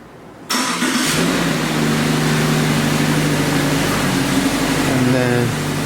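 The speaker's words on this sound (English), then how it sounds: "Car will turn on." A car engine starts remotely through a Viper remote start system with the key removed, then settles into a steady, fairly close idle with a faint whine over it, and a voice speaks over the running engine.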